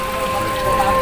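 Steady rain falls outdoors in an even, continuous hiss of drops hitting surfaces, fairly loud and unbroken for the whole brief moment.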